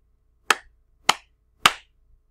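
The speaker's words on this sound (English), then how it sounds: "Hopefully you counted three and you did three claps" Three sharp, evenly spaced hand claps ring out one after another, each a crisp isolated slap with silence between.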